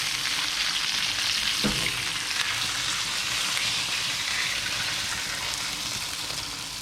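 Chicken breast sears loudly in a hot pan, a dense, steady sizzle and crackle close by with one brief knock partway through, with no speech.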